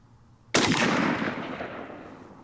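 A single loud, close gunshot from a Zastava ZPAP M70 AK-47 rifle with walnut furniture, a sharp crack followed by a long rolling echo that fades slowly over two seconds.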